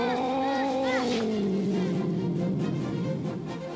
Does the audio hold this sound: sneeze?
no